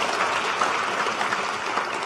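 Audience applause for event sponsors at a conference conversation event, a dense, even wash of clapping from a crowd lasting a couple of seconds.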